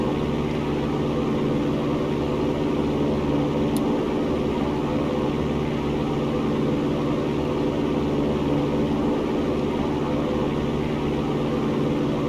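Small single-engine airplane climbing out after takeoff on runway heading, its engine a loud, steady, unbroken drone with propeller roar filling the whole stretch, heard from inside the cockpit.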